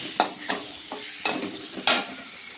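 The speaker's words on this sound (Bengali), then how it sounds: "মশলাগুলোকে একটু ভেজে নেব" Cumin, coriander powder, Kashmiri chili powder and tomato fry in a pan, with a soft sizzle under several sharp stirring scrapes that come in separate bursts, close and fairly quiet.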